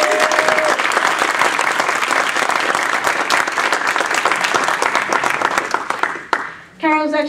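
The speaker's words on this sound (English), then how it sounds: "So please, a round of applause." Applause from the audience at a Toastmasters table topics contest fills the room with dense, loud clapping, then tapers off near the end as a voice starts talking.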